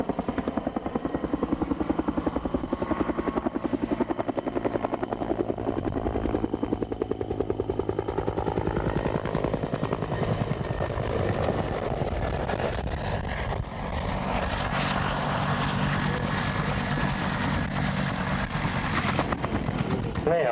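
A helicopter's rotor thrums continuously with engine roar, heavy and close, during an autorotation display at the Point Cook RAAF air show in 1983, while a voice talks over it.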